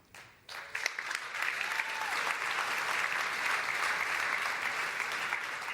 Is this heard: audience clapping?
yes